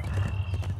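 Horse mount hoofbeats from the video game Heroes of the Storm, a steady clip-clop of hooves close up with a faint whinny-like tone, brief and alone.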